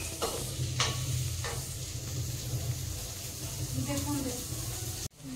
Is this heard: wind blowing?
no